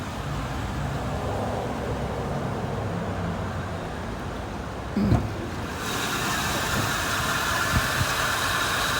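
A stock 1986 Pontiac Grand Prix 2+2 Aerocoupe with a 5.0 engine idles with a steady, even rumble, close by, with a brief knock or bump partway through and a slightly brighter hiss afterward.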